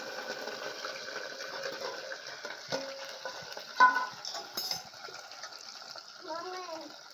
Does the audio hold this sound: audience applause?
no